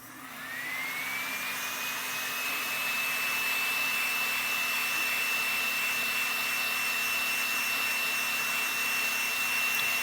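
A handheld hair dryer blows steadily on a freshly painted polymer clay piece with sparkly black diamond paint, a loud continuous whoosh with a thin whine that rises in pitch as it starts, then holds evenly throughout.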